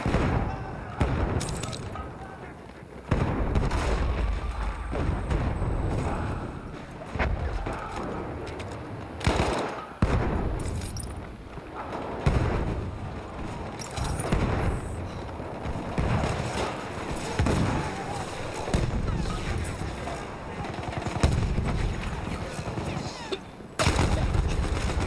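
Battlefield 1 multiplayer combat with repeated bursts of gunfire and booming explosions, loud and dense throughout, cut by sharp blasts at intervals.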